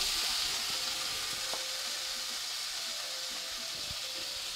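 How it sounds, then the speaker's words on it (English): Salmon fillets laid skin side down in hot vegetable oil give a steady, loud sizzle and hiss from the pan close by, with faint clinks of utensils through it. "I'm going to go right in with our salmon fillets. We're going to put these skin side down"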